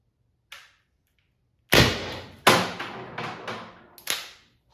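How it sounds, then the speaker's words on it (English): Several sharp, loud pops in quick succession from a gas launcher after a single faint click, each a percussive burst with a short decay, with no voices. "it gives the launcher a chance to gas and then shoot"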